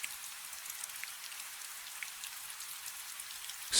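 Rain falls steadily as a dense, even patter of fine drops, a soft hiss that stays level throughout. There are no voices and no other sounds.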